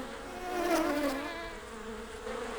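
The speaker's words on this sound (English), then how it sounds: "The bees were still buzzing busily from flower to flower in the field." Cartoon bees buzzing busily from flower to flower in a field, a steady droning hum with a wavering pitch that swells and fades slightly, heard alone without talk.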